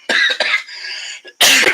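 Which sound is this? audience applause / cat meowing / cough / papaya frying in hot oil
cough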